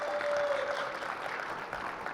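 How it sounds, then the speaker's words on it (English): A conference audience applauds steadily for about two seconds, a dense wash of clapping at moderate level that fades slightly toward the end, with no talking. "Please give him a round of applause."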